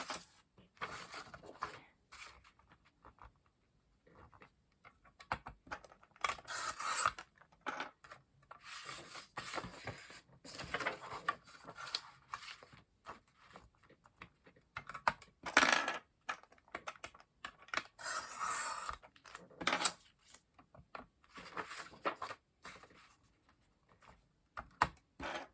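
A paper punch board cutting paper on a craft table, with irregular clicks and sharp snips in short bursts, close and fairly quiet.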